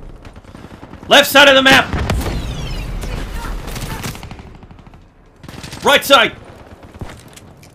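Bursts of automatic gunfire from a Call of Duty: Black Ops III multiplayer match, loud rapid volleys early and again near the end over steady game ambience, with players calling out positions throughout.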